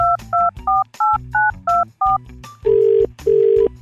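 A telephone number is dialed as a quick series of about eight sharp, evenly spaced keypad tones. Two longer, loud ringback tones follow, with no one talking.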